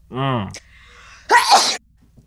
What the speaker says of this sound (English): No, I'm going to sneeze, like, right into the.